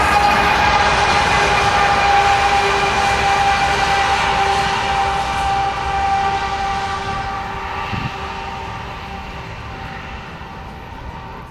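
A freight train led by a CP GEVO locomotive, with a Kansas City Southern unit pushing at the rear, roars past with a loud steady diesel rumble and a sustained high tonal whine that slowly fades.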